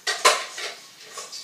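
Chopped vegetables for a quinoa dish tumble into a bowl with two quick clattering knocks of utensil against dish, followed by a few fainter taps and rustles, close and brief.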